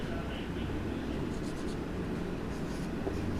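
A teacher writes on a board during a Class 10 lesson on lenses, producing faint scratchy strokes against a quiet room hiss.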